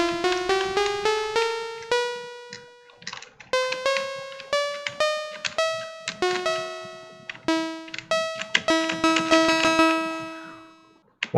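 A twelve-tone equal-tempered scale tuned to A=432 Hz is played as a run of clear, separately struck synthesized tones with sharp attacks and decays, stepping upward and back in a regular rhythm, alone with no talk.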